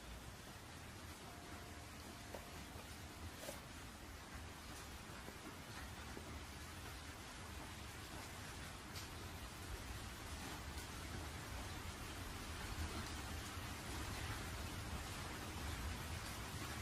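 Rain falling in an anime film scene as a constant, faint hiss of steady downpour, with no distinct thunder and no voices.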